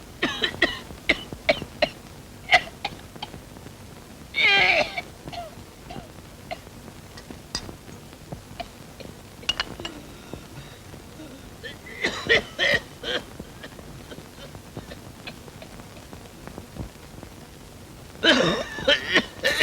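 An old man coughs in harsh, throaty bursts, spaced apart across a quiet indoor room, with faint clinks and small movements in between.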